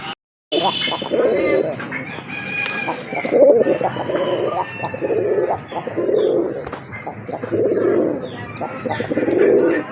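Raj Golla pigeons, a large breed kept for sale, coo steadily in repeated soft rolling bursts close by, with a faint voice and occasional chirps in the background.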